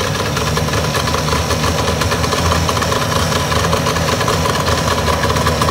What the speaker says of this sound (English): I got it up on high idle.